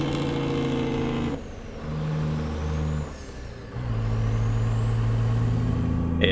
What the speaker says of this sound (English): Really pushing the engine.